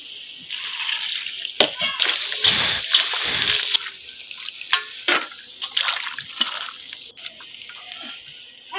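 Water runs and splashes as green tomatoes, cauliflower, cabbage, beans, potatoes and eggplant are rinsed clean by hand in a basin. The splashing comes in uneven bursts, and people talk in the background.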